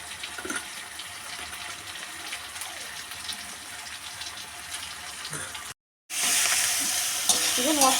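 Spices and onions frying and being stirred for chilli chicken, a steady sizzle with scraping stirs throughout, briefly cut off, then returning louder and brighter near the end.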